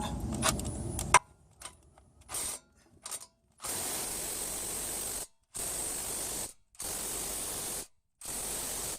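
Ratchet torquing down front strut bolts on an Acura/Honda, working in several sustained bursts separated by brief gaps, close and fairly loud, after a few scattered clicks and clunks at the start.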